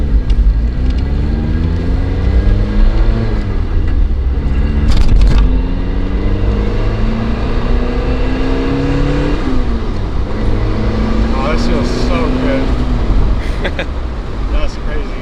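A turbocharged Mazda NB Miata with a Kraken kit drives and revs through the gears, engine pitch climbing and dropping repeatedly, loud from inside the cabin with people talking over it.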